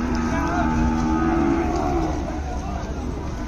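Ongole bulls low at a cattle market in Kodad, with deep, sustained moos over a steady crowd murmur, the calls continuous and fairly close.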